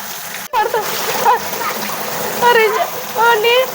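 Children splash in flood water, with short watery splashes and a sharp knock near the start, while children's voices call and chatter over the splashing.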